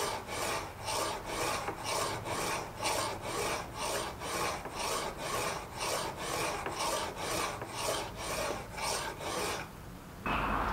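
Hand filing a steel hacksaw blade blank being stripped for cutting teeth, a close, steady rasping in regular back-and-forth strokes, about two per second, ending with a brief pause and shift.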